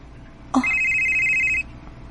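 A telephone rings once with an incoming call, a single bright electronic trill lasting about a second after a short click, loud and close in an otherwise quiet room.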